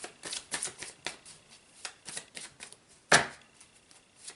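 A deck of tarot cards is shuffled in soft riffling bursts with irregular flicks, ending in one sharp slap or snap near the middle, close by and without talk.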